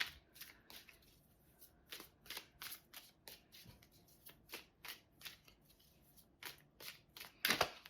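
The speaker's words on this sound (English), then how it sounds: "These cards flew out." Tarot cards being shuffled in a quiet room, a steady run of short papery riffles and flutters with soft gaps, ending in a sharper, louder burst of cards near the end; no talking.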